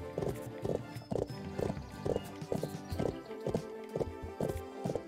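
Horse hooves clip-clopping in a steady, evenly spaced rhythm as a rider travels through the Bibi & Tina: Auf dem Martinshof riding game, close and clear with game music beneath.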